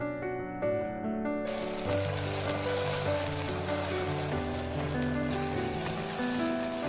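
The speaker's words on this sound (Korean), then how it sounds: "식용유를 넉넉히 넣고 파를 넣고 파기름을 내고" Green onions sizzle in a generous pour of cooking oil to make scallion oil, a steady hiss of frying rising after the first second and continuing under prominent background music.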